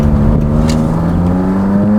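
An AW11 with a 4AGE engine on bike carbs pulls hard uphill, a steady loud engine drone with rising harmonic tones held close for the whole stretch.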